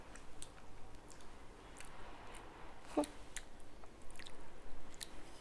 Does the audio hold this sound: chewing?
yes